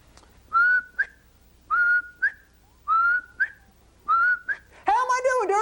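A person whistles in imitation of a quail, a series of four short rising two-note calls spaced evenly apart, clear and close, ending in a warbling flourish.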